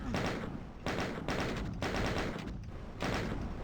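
Doom video game gunfire rings out in bursts of rapid repeated shots, loud and dense, with brief gaps between the volleys and no speech over them.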